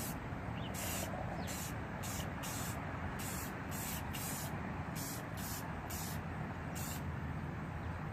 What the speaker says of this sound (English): just give it a quick little spray